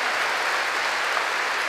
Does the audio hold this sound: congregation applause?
yes